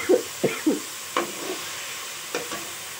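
Food being fried and stirred in a pan for a home dawat meal, with a soft steady sizzle underneath and several distinct scraping strokes of the spoon spaced out irregularly, close by.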